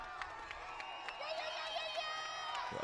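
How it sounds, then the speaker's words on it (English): Crowd cheering and shouting for a strongman competitor grinding out a rep at the Magnus Classic Gimli qualifier, a loud, sustained roar of voices with whistles and yells throughout. "So you hear the crowd going wild for him."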